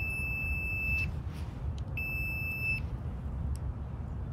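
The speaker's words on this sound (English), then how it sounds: "it should light up for you and beep" A Fluke voltage tester pen sounds two sustained high-pitched electronic beeps, each about a second long with a short gap between them, clear and close over a low background rumble.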